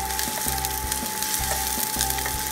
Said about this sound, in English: Saute the collard greens